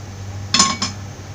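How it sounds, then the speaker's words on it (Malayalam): A metal pan set down on a stove while cooking Kerala-style butter chicken, one short clanking knock followed by a softer second clink over a steady low kitchen hum. "ഇതിനായിട്ടൊരു പാത്രം അടുപ്പത്ത് വെക്കാം."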